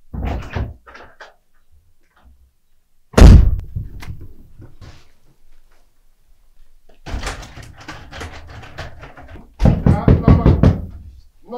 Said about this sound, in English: Norma, open this door this minute, now!